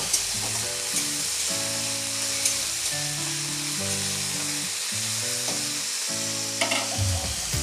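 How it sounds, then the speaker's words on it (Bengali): Potato and onion frying in a pan for a pui mituli dish, a loud continuous sizzle with scraping stirring strokes, and steady tonal music playing underneath, with no talking. "পেঁয়াজের সাথে আমি আলুটা একটু ভালো করে নেড়ে চেড়ে নেব"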